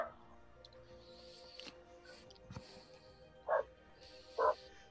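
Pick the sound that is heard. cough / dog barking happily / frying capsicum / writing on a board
dog barking happily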